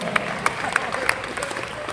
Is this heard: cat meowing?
no